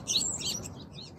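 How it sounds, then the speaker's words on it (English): Birds chirp and tweet outdoors in quick, bright bursts, fairly close and moderately loud, over a soft background hum with no voices. "there's a lot of like birds and nature going on"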